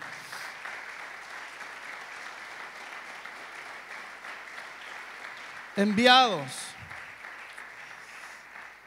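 Applause from a church congregation at a preaching conference, a steady wash of clapping running throughout, with a voice calling out over it near the end.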